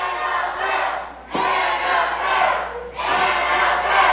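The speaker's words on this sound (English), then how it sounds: "And this Fight Society crowd getting behind Annabelle." A wrestling crowd at a Fight Society intergender tag match cheers and roars continuously, loud and dense throughout, swelling in waves with brief dips between surges.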